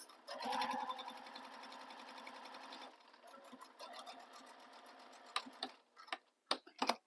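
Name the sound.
sewing machine top stitching fabric edges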